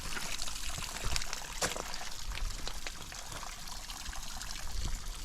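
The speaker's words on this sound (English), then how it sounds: "You can see there's running water." Running water trickles and pours at an outdoor ancient site on the Hill of Tara in Ireland after heavy rain, a steady hissing flow with scattered splashy spikes, continuous and fairly close.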